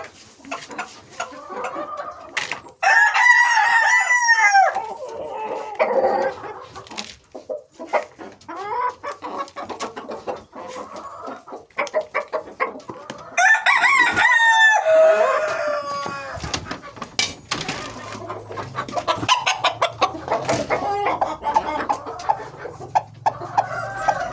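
A rooster and hens cluck and crow around a farmyard feeding spot as mixed feed is poured for them, with repeated close clucks and a couple of louder crowing bursts.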